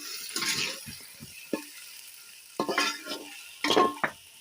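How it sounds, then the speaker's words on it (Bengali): Whole spices, cinnamon, cloves, small cardamom and bay leaf, fry with onion in hot oil as the base for a mutton curry, the sizzle broken by a few close scrapes and stirs of a spoon in the pan. "এবার ফোড়ন দিচ্ছি মাংসের জন্য, এই দালচিনি, লবঙ্গ, ছোট এলাচ, তেজপাতা, পেঁয়াজ"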